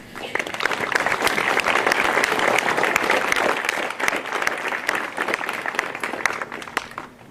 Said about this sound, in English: Please give a round of applause to the RVTC National Technical Honor Society members.